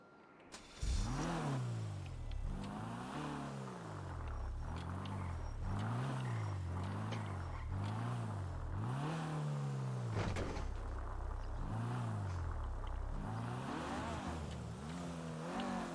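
An Audi car accelerating through repeated gear changes, engine pitch sweeping up and dropping again in a regular rhythm, heard from inside at moderate volume, then settling into a steadier cruise.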